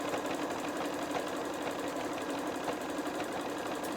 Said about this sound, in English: again just sew this time along the full length of that project